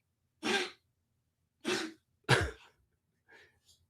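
Pet dog hacking through a short coughing fit indoors: three harsh, close bursts followed by two fainter wheezy ones, spaced irregularly over a few seconds in an otherwise quiet room.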